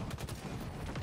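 Dense, continuous gunfire from Halo Infinite multiplayer combat, with rapid overlapping shots filling the whole moment at steady loudness and no clear gaps.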